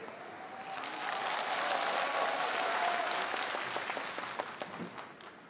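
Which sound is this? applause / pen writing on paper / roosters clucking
applause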